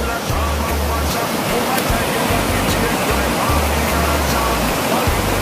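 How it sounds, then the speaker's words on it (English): A mountain waterfall carrying brown runoff from the hilltops roars loudly and continuously, a dense close wash of rushing water with low rumbling underneath. "I'm guaranteeing you it's like all new waterfalls around this piece"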